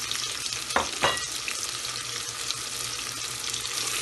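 Onion, chili and cumin sizzling in a hot pan while cooking chana daal with bottle gourd, a steady close frying hiss with a couple of brief stirring clatters near the start, heard alone.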